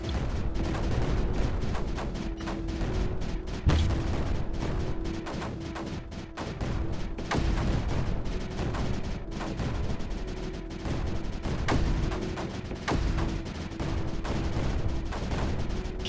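Continuous mortar and cannon fire in the strategy game Creeper World 4: a dense stream of repeated thumps and bursts over a steady tone, with no pauses.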